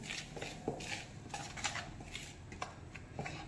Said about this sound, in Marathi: आता हे छान असं चमच्याने मिक्स करून घेऊया।